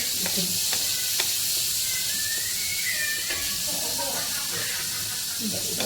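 Cumin with garlic, ginger and green chilli sizzling in a pan for a Vidarbha-style spicy green tur dal amti, a steady close hiss with occasional stirring clicks throughout.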